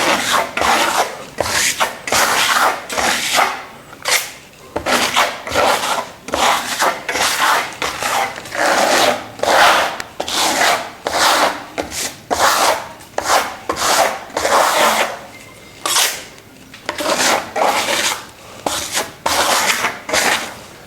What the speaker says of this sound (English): now I got my surface troweled out